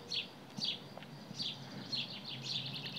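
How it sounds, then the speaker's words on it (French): Small birds chirp in short bright bursts about every half second, fairly distant, over a soft steady outdoor background with a mild warm breeze. "On peut se concentrer sur le chant des oiseaux"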